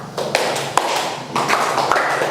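Hand claps mark a cue in an ice-breaking game, sharp slaps standing out in short bursts over a close, roomy background.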